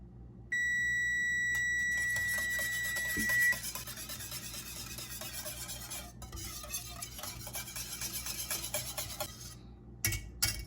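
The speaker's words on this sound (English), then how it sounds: "So I'll probably set the timer for 7 minutes." A kitchen timer emits a long, steady electronic beep tone for about three seconds, then a spoon or whisk stirs and scrapes a thickening mixture in a pot with repeated clinks.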